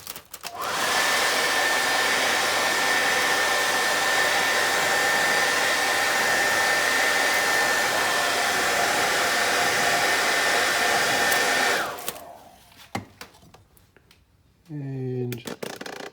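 A hairdryer blows steadily for about eleven seconds while heating old window tint film on glass, a loud continuous whoosh with a faint whine, then cuts off, followed by handling clicks and a brief bit of talk.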